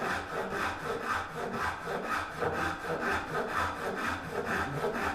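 Gent-style saw cutting wood, a steady rhythmic rasp of back-and-forth strokes, close and fairly loud, about ten even passes with no talking.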